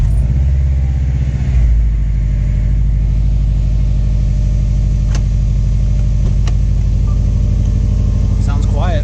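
Subaru STI engine with a Cobb downpipe installed, running with a steady low idle rumble close by, after a brief start surge and a few faint clicks.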